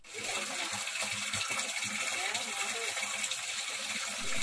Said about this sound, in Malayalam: നമ്മൾ വെള്ളം നിറയ്ക്കാൻ തുടങ്ങിയിട്ടുണ്ട്.